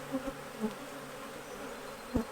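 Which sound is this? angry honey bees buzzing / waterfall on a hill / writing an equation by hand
angry honey bees buzzing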